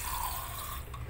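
A little water is poured into chicken rendang in the pot, a soft continuous trickle and splash, faint and brief.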